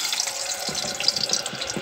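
Potato chips frying in hot oil in a pot at home, giving a steady watery hiss and crackle with brief louder bubbling bursts, close and continuous throughout.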